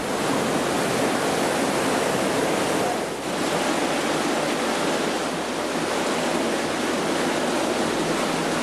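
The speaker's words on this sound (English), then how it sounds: "At the back is Cavern Cascade, the first of two waterfalls you can actually walk behind." Cavern Cascade waterfall in a rock gorge in the Finger Lakes gives a loud, steady broadband rush of falling water. It holds constant and close, with no voices.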